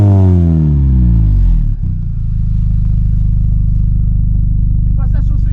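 A Mini Cooper S R53 engine winds down from a high rev, then settles into a loud, steady idle that continues without talk.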